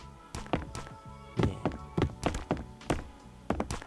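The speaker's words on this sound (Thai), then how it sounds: "อันนี้คือมีเสียงเท้ามาแล้วว่ะแล้วก็สองเท้าเลยนะ" Footsteps of approaching players in the survival game Last Island of Survival, a run of soft, close thudding steps in an uneven rhythm, about a dozen over a few seconds, with no talk.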